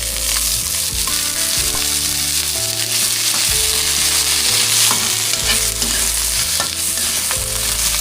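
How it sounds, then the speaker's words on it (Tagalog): Large freshly caught shrimp sautéed in a pan, a loud close sizzle and crackle running continuously with stirring scrapes and a low steady hum underneath, no talk. "Gisa na po natin ito."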